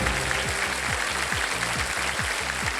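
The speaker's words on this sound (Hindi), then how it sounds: "सबसे पहले जो ताली बजी वो उधर से बजी है" Studio audience applause on a Hindi television quiz show set, a dense wash of clapping held steady throughout with faint tonal music running low beneath it.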